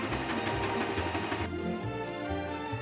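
Sewing machine overcasting a seam on chino trousers, a steady close mechanical whir with rapid needle ticking that shifts pitch midway, running continuously with no talking.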